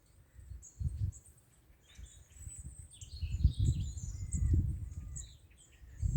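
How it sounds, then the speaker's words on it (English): Robin chattering and chirping in a quiet garden beside a road on a Sunday morning, with small high bird calls scattered above low rumbling wind and handling noise, faint but clear. "Listen to those birds, my little robin chattering away to me."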